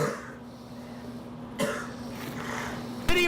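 A man coughs twice, harsh and close, in a kitchen with a low hum in the background; the second cough is the louder one.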